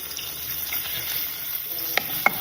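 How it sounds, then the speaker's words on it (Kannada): Butter frying in a pan with a spoonful each of finely chopped ginger and garlic makes a steady, close sizzle, with a couple of brief sharper crackles near the end. "ಒಳ್ಳೆ ಅರೋಮ ಬರೋವರೆಗೂ ಇದನ್ನ ಹುರಿಬೇಕು"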